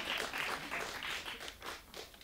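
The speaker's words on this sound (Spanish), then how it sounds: "un aplauso para ustedes" Concert crowd claps steadily throughout, a continuous wash of many hands at moderate distance with no talking over it.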